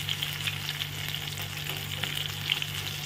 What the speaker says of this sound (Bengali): মোচার চপগুলো দেখো ভাজা হয়ে গেছে